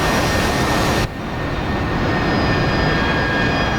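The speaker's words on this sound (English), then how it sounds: "Here comes that Harrier." A Harrier jet roars past in the DCS flight simulator game, a loud broadband jet engine rush that shifts abruptly partway through and then carries on as a steady, slightly quieter rumble.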